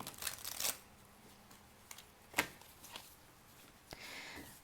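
Tarot cards are shuffled up close in short riffling bursts separated by quiet pauses, with soft card taps and slides in a quiet room.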